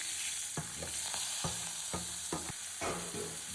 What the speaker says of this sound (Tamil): ரெண்டு பச்சை மிளகா கருவேப்பிலை வெங்காயம் எல்லாத்தையும் போட்டு வதக்கிங்க